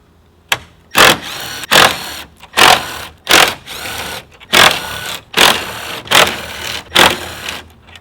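Power driver spinning out 10mm grille screws on a 2017-2019 Ford F250 Super Duty, a series of about eight loud, close whirring bursts, each roughly half a second, separated by short pauses.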